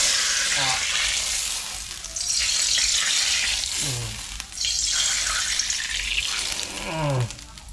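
Hot used cooking oil poured onto a wooden cutting board, bursting into loud sizzling hisses in three surges with crackling spatter between them.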